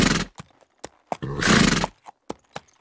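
A horse gives a loud, close neigh, with scattered hoof clops before and after it.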